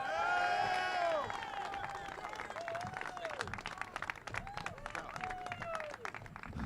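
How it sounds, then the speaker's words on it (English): An audience at a legislative press event on probation reform claps, scattered and moderate, while music and voices carry on over the clapping. "Please give a tremendous round of applause, even bigger than for me"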